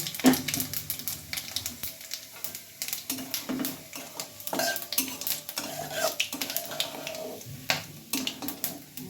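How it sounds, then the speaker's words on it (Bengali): Dry red chillies, cumin and whole garam masala crackle and fry faintly in hot oil while a metal utensil clinks and scrapes busily against the pan. "রান্না করার জন্য শুকনো লঙ্কা ফোড়ন দিলাম"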